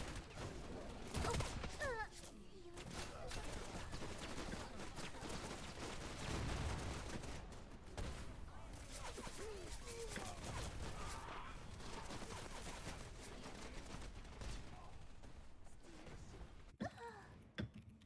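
Dense gunfire and explosive bursts fill the Wild Assault video game battle continuously, loud and chaotic, with layered impacts and occasional faint voice sounds mixed in.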